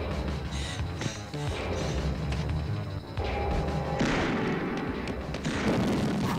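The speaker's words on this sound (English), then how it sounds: "Explosions! God, I love some explosions." Explosions and heavy booms from a Terminator action film, a dense continuous roar of blasts, crashes and rumbling with music underneath, loud and sustained throughout without pause.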